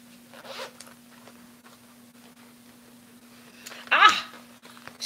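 A zipper on a Dooney and Bourke purse pocket is pulled open in a quick, close, scratchy burst. A fainter zip comes earlier, with quiet handling noises in between.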